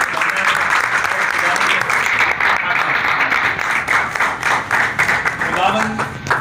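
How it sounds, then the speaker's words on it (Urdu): Audience applause at a religious gathering, a dense, steady burst of many hands clapping that carries on throughout and thins slightly near the end. "آپ کی تالیوں کی بھیڑ سے"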